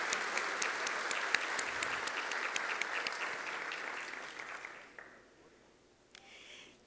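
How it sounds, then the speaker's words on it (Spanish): An academic congress audience applauds the CINEACE staff in a sustained round of indoor clapping with a few sharp claps standing out, tapering off after about five seconds into quiet room tone. "pido un aplauso para ellos"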